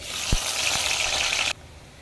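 Chopped onion drops into hot oil in a pan, giving a loud, steady sizzle with a couple of soft thuds. The hiss holds for about a second and a half, then cuts off abruptly and leaves quiet.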